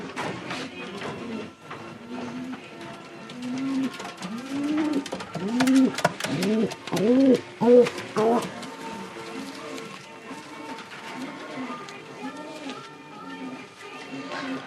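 Racing pigeons coo nearby in a run of soft, throaty, rolling calls, repeated several times, with faint background rustling and occasional voices.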